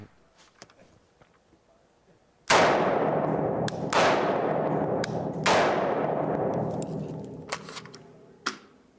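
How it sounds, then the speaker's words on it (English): An AR-15 rifle fires at a target on an outdoor shooting range: three loud, sharp shots a second or two apart, each with a long echoing decay, followed by fainter clicks and a later smaller crack. "So I'm going to shoot it real quick so that you can see the impact in the target that it will make."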